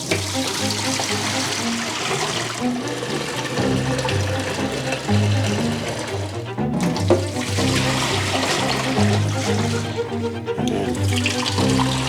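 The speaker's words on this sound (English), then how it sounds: "we've got to fill the tank up with water and we're going to flush the system" Water runs and splashes steadily into the tank of a Delonghi La Specialista coffee machine while it is being descaled, a continuous gushing fill with brief pauses and no talking.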